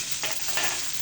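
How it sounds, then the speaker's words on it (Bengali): Cabbage and onion greens being stirred as they fry in a pan, with a steady sizzle and a couple of brief scraping stirs close by. "নাড়াচাড়া দিয়ে নিয়ে হয়ে গেল আমার বাঁধাকপি ভাজি পেঁয়াজকলি দিয়ে"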